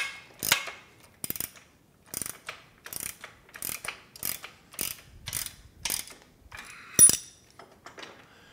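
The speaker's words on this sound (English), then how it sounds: "I use the deep well, three-quarter inch socket" A ratchet wrench fitted with a deep-well three-quarter inch socket clicks in a steady series of short, crisp bursts, roughly one every half second, close and alone during assembly of a Body Solid EXM3000 home gym.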